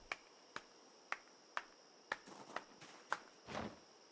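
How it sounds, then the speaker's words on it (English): Clapping emote of a Project Zomboid character, several crisp evenly spaced claps that give way to soft footsteps and a short scuffing rustle near the end, all quiet. "How long is she going to clap for, by the way?"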